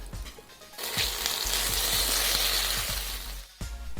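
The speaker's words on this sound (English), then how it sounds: "Come, let us stir them in together with the other ingredients." Pounded spices are stirred into a hot oiled pan with other ingredients for a cassava fish curry. Loud, steady sizzling with repeated scraping stirs runs close up before it briefly cuts out.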